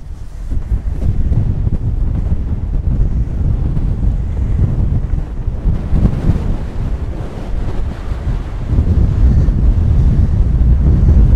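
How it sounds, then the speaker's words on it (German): Strong wind and surf on the North Sea coast by a dike near Meldorf Bay, a loud continuous roar with heavy microphone buffeting and low rumbling gusts, no talk. "Bisschen windig heute."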